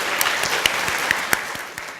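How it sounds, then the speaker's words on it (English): Audience applause at a health promotion conference, a steady wash of clapping with a few sharper individual claps standing out, sustained for the whole stretch at a moderate level. "We should give an applause to Alfonso."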